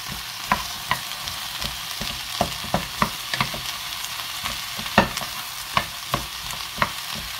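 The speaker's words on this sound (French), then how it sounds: "on les saisit un petit peu à feu vif pendant 2 minutes en remuant constamment" Leeks searing in a pan over high heat while being stirred, a constant sizzle broken by regular sharp scrapes and taps of the utensil against the pan, close and alone.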